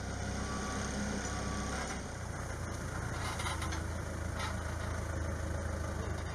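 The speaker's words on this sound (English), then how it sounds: "the forklifts and trucks come in to haul the pieces away." Forklifts and trucks idle and rumble at an aircraft boneyard while scrapped plane sections are hauled away, a faint steady engine drone with light clatter and distant activity throughout.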